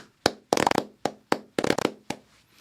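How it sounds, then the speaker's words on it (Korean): Sparse hand clapping, close and dry: a handful of separate claps with quick flurries of several claps in between, and silence in the gaps. "여러분 박수."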